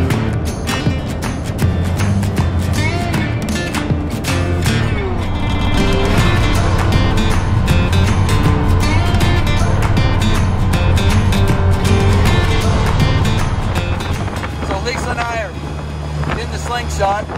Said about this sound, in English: Gonna take the wife for a ride in the slingshot.